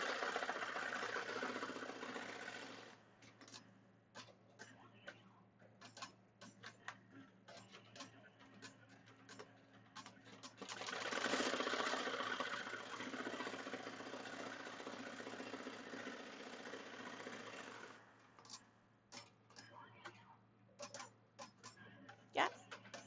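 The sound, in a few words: Melco embroidery machine sewing the side of a hat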